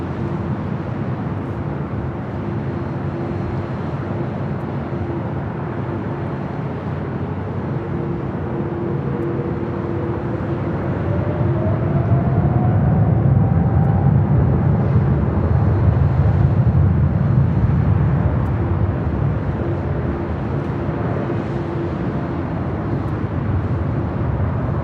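A Japan Airlines heavy jet taking off from runway 24 right at LAX gives a loud, continuous broadband jet roar that swells midway with a rising engine whine, heard from a distance with no talk.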